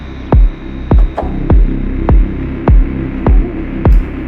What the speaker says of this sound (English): this ring modulation or flanger thing